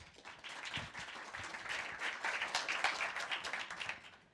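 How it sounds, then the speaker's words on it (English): Steady applause and clapping from a conference audience welcoming a speaker on stage, a dense crowd of hands sustained for several seconds at moderate level. "So let's give a warm round of applause for Livio."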